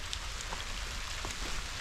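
Steady rain falls outdoors around a yard where a French drain and catch basin are being installed, a continuous hiss of drops hitting the ground with no talking.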